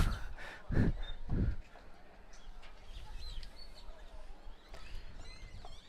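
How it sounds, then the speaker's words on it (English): A few dull knocks at the start, then scattered faint calls and chirps from blackbirds in a tree drift over a quiet outdoor background at a youth football game. "I got a tree full of blackbirds over here."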